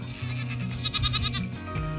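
Goats bleat in a farm herd with a rescued goat among them, several wavering, nasal cries overlapping in quick succession, close and fairly loud.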